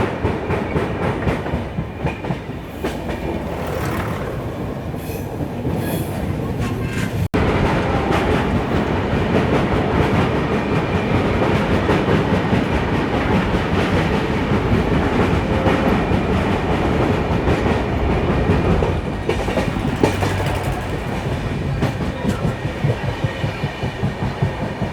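The Deccan Janshatabdi Express, 12071 from CSMT Mumbai to Hingoli, rolls along at speed with a loud, continuous rumble and rattling wheel clatter on the rails. The roar holds steady from close by throughout.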